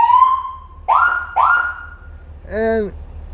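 Federal Signal police siren on an armored 2019 Cadillac Escalade ESV, sounding loud, close, short rising and falling wails, two quick yelps, then a brief air-horn blast.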